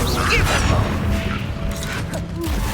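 Blasting spell Bombarda fired in Hogwarts Legacy, a dense mechanical rumble with creaking and crashing debris, loud and continuous across the moment, with a voice casting just beforehand.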